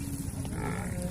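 A Nili water buffalo at a livestock sale in Pakistan gives a short, low, droning moo. It is close and fairly steady, with no talk over it.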